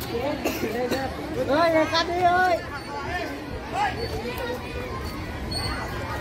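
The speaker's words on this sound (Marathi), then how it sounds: "बापरे गर्दी बघ" A busy weekend crowd at the Kanheri temple site fills the air with steady overlapping chatter and children's voices, a dense hubbub close around the listener.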